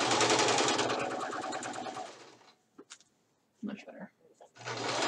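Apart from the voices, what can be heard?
sewing machine stitching pajama pants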